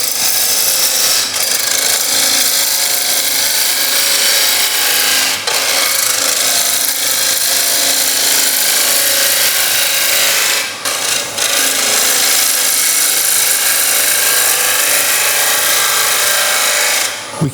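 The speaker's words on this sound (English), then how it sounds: "I'm just going to use the swept back bowl gouge." A swept back bowl gouge cuts a wooden bowl on a lathe, producing a continuous loud, close rasping hiss with a few brief dips where the tool lifts, and no talk.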